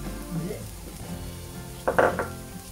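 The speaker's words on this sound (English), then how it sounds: "Now garlic does burn if you cook it too long, so just let that cook out a bit" Garlic frying in a pan for a green tomato and chilli dip: a low, steady sizzle with a brief stirring clatter of utensil against pan near the end.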